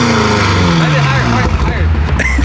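A loud, close BMW F80 M3 exhaust with aftermarket downpipes drones and rasps as engine revs fall and rise, with voices talking over the roar.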